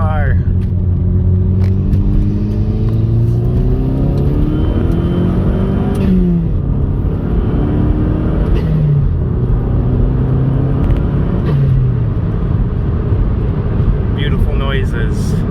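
A turbocharged Chevrolet Cobalt SS accelerates hard through several rising gear pulls, its engine revving loud and close with a steady exhaust roar, brief turbo whooshes and a voice speaking over the noise.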